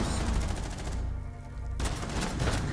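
Rapid bursts of shotgun fire in Rainbow Six Siege, loud and close, in dense clusters of blasts with a brief lull mid-way before the shooting resumes.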